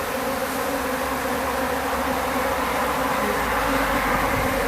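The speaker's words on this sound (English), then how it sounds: "some of these bees here will put their tails up and expose a little gland" A swarm of honeybees gives off a dense, constant buzz, loud and close, holding steady without pause or voices.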